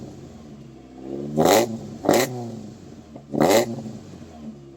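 A Toyota MR2 AW11 with a new aftermarket exhaust gets three sharp throttle blips, each rev rising to a raspy bark and falling back to idle, close and loud, followed by a brief exclamation.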